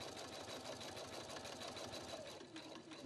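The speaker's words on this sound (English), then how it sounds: "Use the clearance plate to easily sew over thick seams." A Husqvarna Viking Platinum Plus sewing machine stitching over a thick seam, a continuous fast whirring hum that stays steady and even throughout, close but quiet, with no talking.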